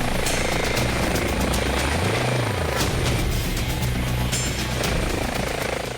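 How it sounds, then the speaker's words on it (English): An air ambulance helicopter's rotor thumps loudly and steadily overhead at a remote paintballing centre, a dense continuous chop with engine whine, no voices. "The helicopter has been requested as the remote location has limited road access."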